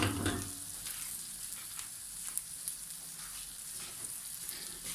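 Bread rolls fry in melted butter in a pan, giving a steady, close sizzle with light crackling that fills the whole stretch with no one talking.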